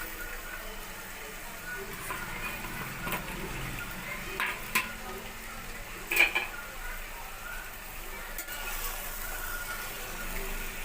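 Cabbage and chana dal curry frying in a pan while being stirred: soft steady sizzle with faint scraping and a few light clinks of a utensil against the pan, fairly quiet throughout.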